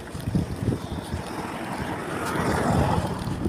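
Strong gusts of wind buffet an outdoor microphone, producing a continuous low rumble that swells and surges, growing heavier in the final seconds, with no voices.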